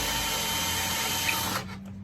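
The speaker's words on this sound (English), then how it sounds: "So once we've drilled our pilot hole," A power drill bores a pilot hole in drywall with a loud, steady whir that stops abruptly near the end, leaving a faint low hum behind it.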